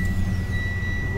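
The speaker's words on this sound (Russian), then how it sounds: "Передние парковки. Вот включаются датчики." A car's front parking sensors switch on with a steady high electronic beep tone, constant and fairly close, over a low idling engine hum and faint background noise.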